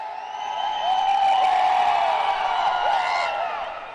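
An indoor arena crowd at a 3x3 pro basketball league game in Chennai cheers for Hyderabad, a swelling, sustained roar of whoops and shouts that peaks mid-way and then eases off.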